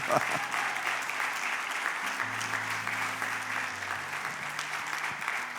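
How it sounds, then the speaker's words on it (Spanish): Church audience applause during a bishop's sermon, sustained clapping from a crowd with a low tonal hum underneath and faint voices mixed in. "Ese es medio aplauso"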